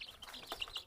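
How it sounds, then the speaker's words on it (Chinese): Small chicks cheep and peep in a rapid, overlapping chorus, close and fairly loud, as they are being boxed up to take to a home in the countryside. "这装小鸡带走呢。"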